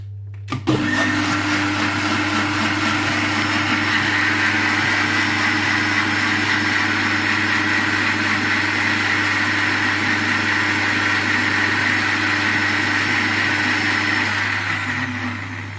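A blender whirs steadily and loudly for about fifteen seconds, mixing a keto caramel latte blend, then winds down at the end.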